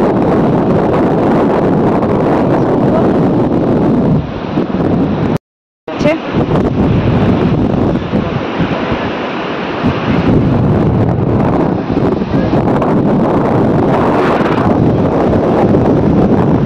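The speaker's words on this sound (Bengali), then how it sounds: "শুধু দু চোখ যেদিকে যাচ্ছে শুধু সমুদ্র আর ঠান্ডা হাওয়া" Strong cold sea wind at the Digha coast buffets the microphone in loud, roaring gusts, with the sound of surf underneath and a brief dropout midway.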